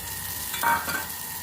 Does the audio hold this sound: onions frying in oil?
yes